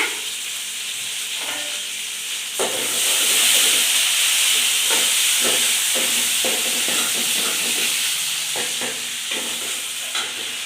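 Garlic cloves sizzle in hot oil in a pan while a horse gram dal curry is being tempered, a steady dense hiss that swells after a couple of seconds with faint stirring clinks and scrapes underneath.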